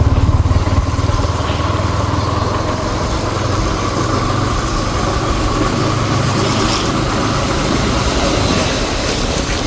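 A Yamaha R15 motorcycle engine hums steadily and loudly while riding, a continuous close drone with wind rush and no clear voices.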